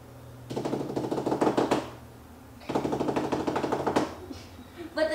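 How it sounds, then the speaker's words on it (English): Two rapid bursts of sharp tapping, like a woodpecker drumming, each lasting about a second and a half, with a short quiet gap between. "they kind of sound like a woodpecker"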